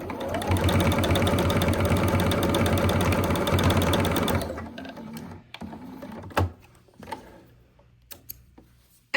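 A sewing machine backstitches a small fabric coaster, a fast steady mechanical whirr close by for about four seconds, then stops, leaving scattered soft clicks and handling knocks.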